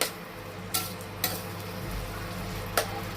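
Small kachki fish are stirred in a frying pan, with a low steady sizzle and three sharp spatula scrapes against the pan.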